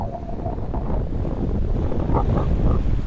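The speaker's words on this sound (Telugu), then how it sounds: "నీళ్ళన్నీ వెళ్తున్నాయి చూడండి ఎంత స్పీడ్గా అయితే పోతున్నాయో నీళ్ళు" Steady, low rushing of sea water through a channel at a beach, with wind buffeting the microphone, loud and continuous for the full few seconds.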